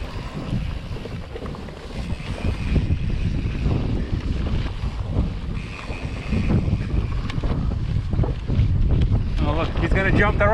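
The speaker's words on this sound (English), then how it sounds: "Oh, this wind." Wind roaring across the microphone while mountain biking a trail in Sedona, a loud steady low rumble and buffeting that lasts throughout, with a voice faintly audible underneath.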